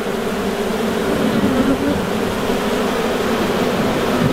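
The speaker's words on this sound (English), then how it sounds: "There's a lot of bees hanging on the outside of that." Honey bees swarm on the outside of a hive during an inspection, making a steady, dense, droning buzz with a noisy hiss that holds constant throughout.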